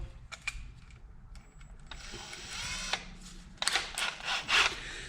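A wire wheel scrubbing the aluminium of an LTZ400 engine cylinder head, heard as intermittent bursts of harsh, gritty brushing and clicking close by, growing louder and more sustained toward the end.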